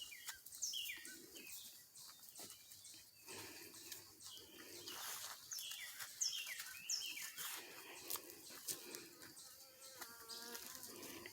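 Outdoors near berry bushes, a bird gives faint, brief calls and chirps several times at a distance against a quiet, rustling background.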